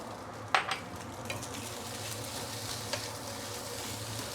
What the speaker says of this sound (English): Give it a few stir and it is done.